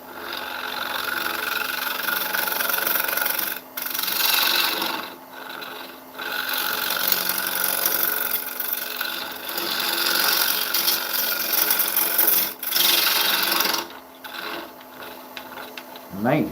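An oak dish spins on a wood lathe at 870 RPM while a tool cuts it, making a continuous raspy, hissing scrape with a few brief breaks and swells as the cut lightens and bites again.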